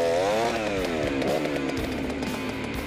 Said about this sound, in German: Das ist die größte Säge, die Däumer gebaut hat in den 60er Jahren.